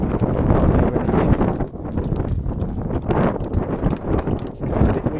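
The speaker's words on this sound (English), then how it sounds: "It's because it's a bit windy." Strong wind buffets the microphone in loud, rumbling gusts that rise and fall throughout, with no clear voices.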